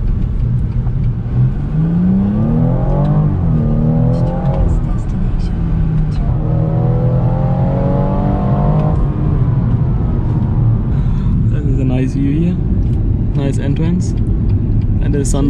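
A BMW M240 convertible drives an autocross mini-track, its engine loud and close as it revs up through rising gear pulls, shifts and eases off, with people talking over the engine throughout.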